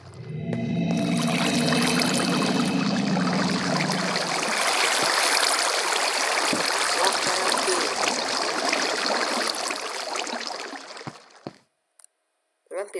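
Water flows in the Minecraft video game as a steady, loud rushing wash that holds for about eleven seconds before cutting off abruptly, followed by brief silence and a few small clicks.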